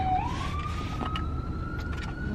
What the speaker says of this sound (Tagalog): Narinig niyo ba yung ambulance?